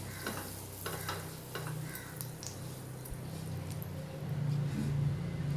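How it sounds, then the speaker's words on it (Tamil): Butter sizzles in a hot pan as food roasts, a steady close crackling fry with occasional stirring scrapes and a low hum underneath, growing slightly louder toward the end. "ஒரு துண்டு பட்டர் சேர்த்துட்டு இதை அப்படியே ஒரு சுற்று சுற்றி விட்டுறலாம்"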